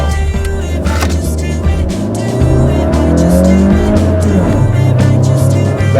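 A 2015 Honda Fit engine revs hard while driving around corners, a loud close drone rising and falling in pitch through gear changes, with faint tire noise.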